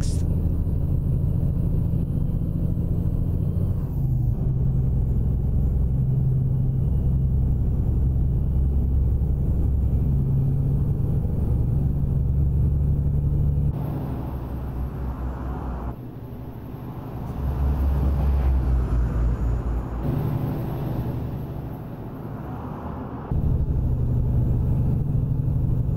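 Heavy truck engine in American Truck Simulator revving high after a downshift from sixth to fifth, a loud steady low rumble that dips and swells, with someone talking over it.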